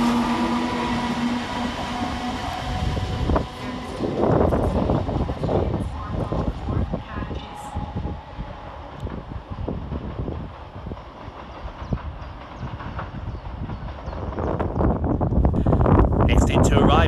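Class 320 electric units 320307 and 320416 run through Pollokshields East station on a Glasgow Central to Larkhall service, a steady rumbling roar with wheel and rail noise that builds again toward the end.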